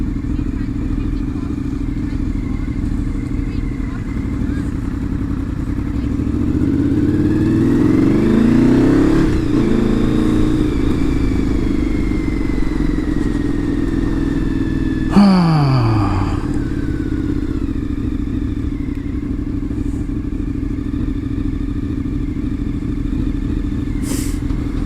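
A Honda VFR750 motorcycle engine rumbles steadily at idle up close, with a brief rev swelling partway through and a quick clattering blip later.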